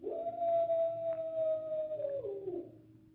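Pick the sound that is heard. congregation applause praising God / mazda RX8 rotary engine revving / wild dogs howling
wild dogs howling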